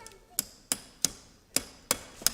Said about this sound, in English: You put that back up while I hammer this in